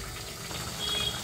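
Water pours from a tap or jug into a pan of cooking minced-meat keema with capsicum, a short, steady splash and trickle heard alone.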